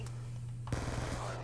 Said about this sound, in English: I just freaking got shotgun.